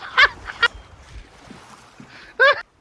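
A bird squawks in the pirate game Sea of Thieves, two or three short harsh honking calls with a louder one near the end, heard over faint background game sound.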